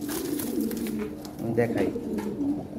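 A pair of round-bodied Lahori Shirazi pigeons coo steadily in low, throaty phrases at close range while someone talks over them.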